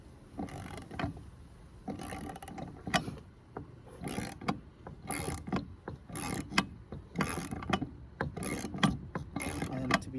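A hand-cranked AC hose crimper for a project truck tightens its dies with repeated ratcheting clicks and squeaky mechanical turns in uneven bursts, close and fairly quiet.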